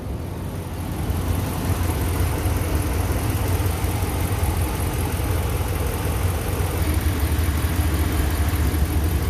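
A young 2017 Ram 1500 pickup with a 5.7L engine idles before an engine flush, a steady, even low rumble that holds alone at a constant level for several seconds.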